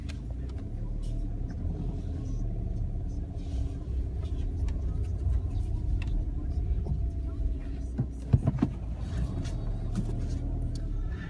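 A VW car on a drive, its engine and road rumble forming a steady low drone from inside the cabin, with a few faint clicks and knocks over the top.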